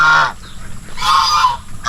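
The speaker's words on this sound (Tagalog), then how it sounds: "Oh, gansa, kamusta?" Farmyard geese honk loudly at close range, two nasal bursts separated by a short pause, on a Filipino farm that also keeps pigs, chickens, ducks and turkeys.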